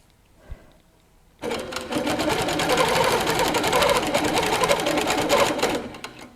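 A Handi Quilter Capri stationary longarm quilting machine, stitch regulated at 12 stitches per inch, starts after a short quiet moment with a click, then runs in a steady rapid mechanical whir of stitching close by.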